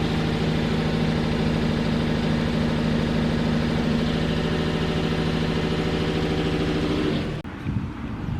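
A Ford engine idling roughly with a misfire, a steady, loud, shaky drone close by that cuts off abruptly near the end.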